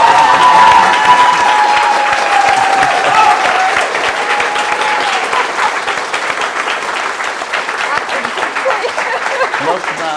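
Loud, sustained applause and cheering from a crowd at a live stage show in honour of Kasia Dorocińska, dense clapping with whoops and a voice briefly rising early on, easing slightly but continuing throughout.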